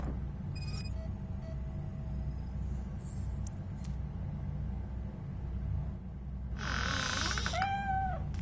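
A cat meows in the game RoboCop: Rogue City, a drawn-out wavering cry near the end over a steady low ambient rumble, with faint electronic tones earlier.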